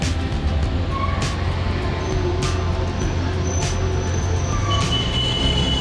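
Metro train at Magadi Road Metro Station in Bengaluru, a steady loud rumble of railcars with occasional high wheel squeals breaking through, continuous for the whole stretch with no talk.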